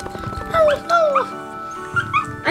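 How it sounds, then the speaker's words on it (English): A small puppy whimpers and yips in a few short, high, whiny cries, close by, with soft background chatter between them. "I wonder if this poor dog is okay, though."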